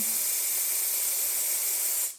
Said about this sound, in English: there's the steam